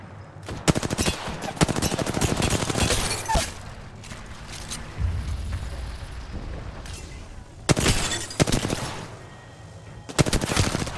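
Rapid bursts of automatic gunfire in Apex Legends, loud strings of shots in several volleys with brief lulls between, and a voice occasionally heard beneath the shooting.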